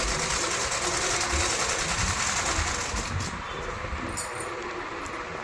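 A sewing machine stitches the side seams of a 44-inch blouse, its continuous whirring mechanical hum steady and close, softening slightly in the last couple of seconds.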